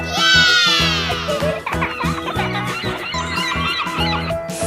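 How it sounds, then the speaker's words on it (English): A seagull opens with a loud descending call, then gives shorter squawks over continuous background music. "Seagull."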